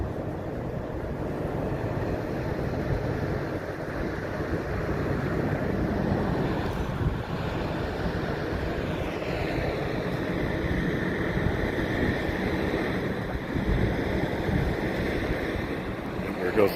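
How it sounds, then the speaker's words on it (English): Wind blowing hard during wildfires near Spokane, Washington, a steady, loud roar of gusts buffeting the microphone with rumbling low noise, continuing without a break for the whole stretch. "There goes the wind, more wind."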